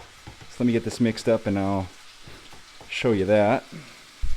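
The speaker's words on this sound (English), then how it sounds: "I got some bacon cooking up" Bacon sizzles and fries in a pan in the background, a steady faint crackle running beneath someone talking in the foreground.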